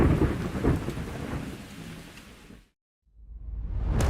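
Heavy rain pours down during a thunderstorm in Nairobi, with rolling thunder in a dense roar that cuts out abruptly, goes silent for a moment, then swells back up to full strength.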